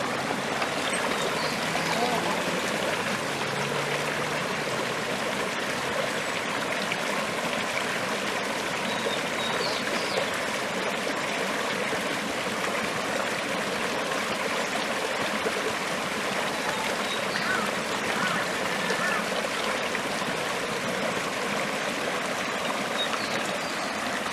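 Continuous rushing of a mountain creek flowing over rocks and a small dam nearby on Xinglong Mountain, a steady bright babble that holds evenly throughout without voices breaking through.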